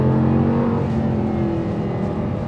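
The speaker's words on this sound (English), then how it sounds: "There's something about a V10, isn't there? It's just almost a perfect configuration of cylinders, isn't it, V10? Just from noise and performance." Audi R8 LMX V10 engine pulls under acceleration from inside the car, a loud, dense, continuous roar with a steady low drone and gradually shifting pitch, with no talk.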